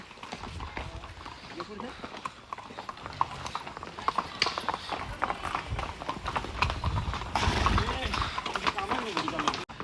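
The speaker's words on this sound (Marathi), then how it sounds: "घोडा परत परत सटकतोय." Horse hooves clip-clop steadily on a hard path in Matheran, India, close by, the horse slipping repeatedly, with people talking over the rhythmic steps.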